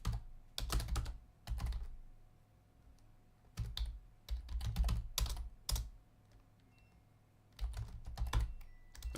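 Rapid bursts of keystrokes on a computer keyboard while writing Unity C# code, close and crisp, arriving in clustered runs separated by short pauses, with no voices.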